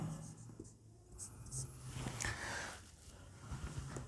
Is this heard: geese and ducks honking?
no